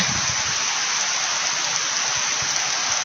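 Steady rain pours down onto a surface with a dense, loud hiss and occasional low patters, continuous throughout with no voices.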